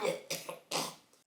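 Three short, raspy coughs in quick succession after drawing on an orange-flavored Füm, fairly close and fading at the end, with no speech.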